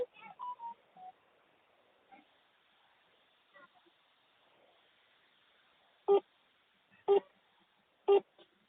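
A few short tonal beeps of a phone keypad, three clear evenly spaced presses near the end after some faint scattered blips, with no talking.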